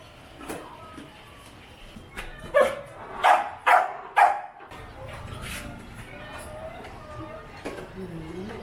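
Dogs awaiting adoption bark during feeding time, four loud close barks in quick succession amid lighter yips and whimpers, with faint background voices.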